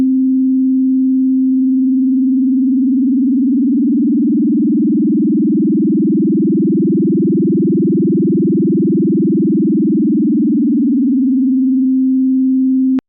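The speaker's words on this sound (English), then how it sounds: "Let's try that with the sine wave." Pure synthesizer sine tone, a smooth steady hum that swells gently in the middle with a slight wavering before returning to a flat even pitch, loud and alone throughout.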